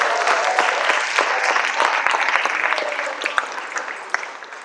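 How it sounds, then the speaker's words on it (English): An audience at a school fall jazz concert gives new jazz band members a warm, dense round of applause, many hands clapping together in a steady wash that gradually thins and fades. "let's clap it up for our new members"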